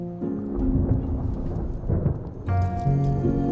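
Thunder rumbles before rain in a scene from the Chinese costume drama Flourished Peony, with a low continuous roll under a steady musical score that swells louder near the end.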